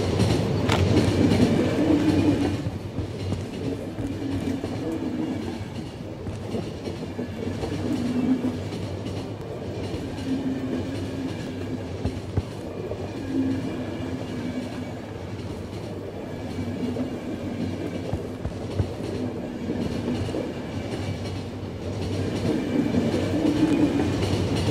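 A train runs on rails in the video game The Final Station, giving a steady, continuous rumble with a faint clickety-clack of wheels that holds at a constant loudness for the whole stretch, with no talking over it.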